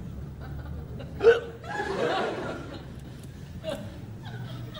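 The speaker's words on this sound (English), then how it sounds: "Got hiccups." Sharp hiccups break out amid laughter and chuckling, one loud hiccup followed by a longer bout of laughing and a softer hiccup later, heard close during a comedy reaction.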